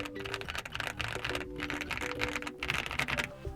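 Rapid typing on a factory-lubed MCHOSE MC K87 mechanical keyboard, close and steady, with soft, muted key thocks in a continuous flurry and no talking.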